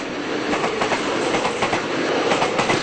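A passenger train on the Qinghai-Tibet railway bound for Lhasa, heard from inside as a steady rumble with rhythmic clickety-clack of wheels over rail joints, continuous and fairly loud.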